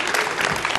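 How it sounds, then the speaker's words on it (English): Brief burst of applause and cheering from staff in a launch control room after a successful Ariane V163 rocket launch carrying the Anik F2 satellite, steady and moderately loud. "You can hear the applause."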